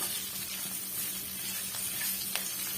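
Curry leaves sautéing in a pan for a spicy chutney, a steady soft sizzle with a faint hum underneath and a small pop near the end.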